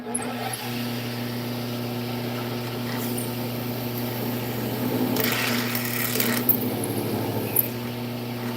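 A drill bores a hole in a wood blank on a woodturning lathe, a steady motor whine with a lower hum beneath it and a rougher burst of cutting partway through.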